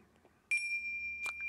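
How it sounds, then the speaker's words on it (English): Two strikes of tingsha bells, the first ringing out with a long, clear sustained tone, the second struck a moment later over it; quiet and close. "I will be playing the Tingsha Bells."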